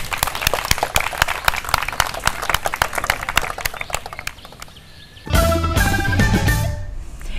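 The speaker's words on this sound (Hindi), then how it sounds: "तो फिर बजाओ ताली। अरे बजाओ ताली।" Audience claps after a short health skit about childhood vaccination, quick scattered claps for about five seconds, then music swells up.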